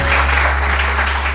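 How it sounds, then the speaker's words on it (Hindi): Studio audience applause on a televised morning show, a brief dense wash of clapping from many hands, steady and fairly loud. "ओके जी, बहुत सारी तालियां इनके लिए।"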